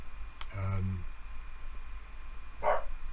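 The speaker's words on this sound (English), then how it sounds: "My dog's barking, he wants to go out" Dog barking indoors, a quick run of several sharp barks early on and then one more bark a couple of seconds later, fairly close, with a quiet background between.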